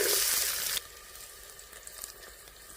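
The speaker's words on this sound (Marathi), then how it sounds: "आपल्याला लालसर रंगापर्यंत परतून घ्यायचा आहे" Finely chopped onion fries in oil in a pot over a wood-fired stove, giving a loud burst of sizzling at first that drops to a steady, quieter crackle and hiss.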